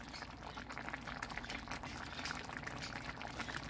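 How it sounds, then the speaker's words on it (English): A pot of meat sauce with garlic and onion simmering for lasagna, a faint, steady bubbling and popping that carries on evenly throughout with no voices. "I just wanted to show you it's just simmering now"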